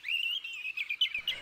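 A European robin, a tame garden bird in Paris, gives a steady run of high, thin chirps and twittering notes close by, continuous for about a second and a half with no voices.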